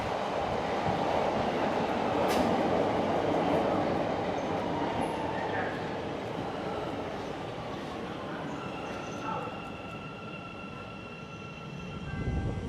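A train rolls through a city station in a steady, loud rumble of wheels and carriages that fades slightly as it slows, with faint squeals and tones near the end.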